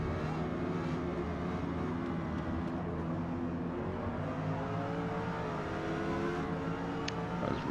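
A Lexus LFA races around Silverstone in an S-class race in Forza Motorsport, its high-revving engine climbing and shifting through repeated rising sweeps, steady and continuous with brief gear-change dips, alone without talk.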